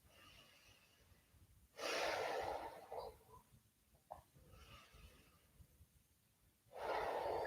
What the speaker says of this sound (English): Take another couple of nice deep breaths.